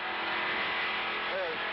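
NASCAR stock cars race at Daytona International Speedway in 1970, a loud continuous engine roar with a brief rising whine near the end, under a commentator's voice.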